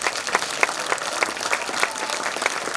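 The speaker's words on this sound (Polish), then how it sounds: "Wielkie brawa." Steady, dense applause from an audience at a school end-of-year concert, with clapping filling the room continuously and evenly, no voices standing out.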